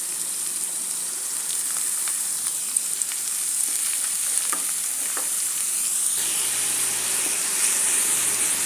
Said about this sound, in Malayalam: ഇനി ഇതിലേക്ക് അരിഞ്ഞു വെച്ചിരിക്കുന്ന സവാള ഇട്ട് കൊടുക്കാം.